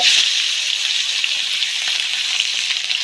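Half a kilo of marinated meat for a home-style broiler chicken curry hits browned onions in a hot pan and sizzles loudly and steadily from start to finish.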